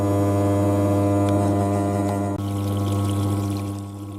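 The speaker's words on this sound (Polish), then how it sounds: "woda pochodzi z dziurawej rynny, którą planuję w tym roku wymienić wpada do tej dużej beczki" Rainwater from a leaky gutter pours steadily into a large barrel, a continuous close gushing wash with a strong low hum running through it, ending a little quieter.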